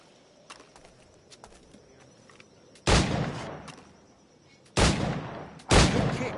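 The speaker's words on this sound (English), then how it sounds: "Pull off a few shots if you like." Firearm shots from Assassin's Creed Black Flag crack out three times, loud and close, each followed by a short decaying echo, over quiet ambience with a few faint clicks.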